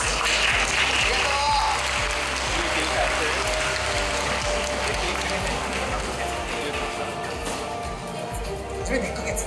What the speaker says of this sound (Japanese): 最後じゃあ熱い拍手をお願いします